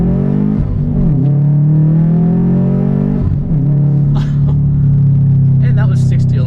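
A tuned Subaru WRX accelerating hard from first gear at 4,000 rpm, a loud steady engine drone that climbs in pitch, briefly dips at a shift and climbs again, close and continuous.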